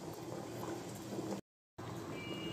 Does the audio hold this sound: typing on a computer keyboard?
no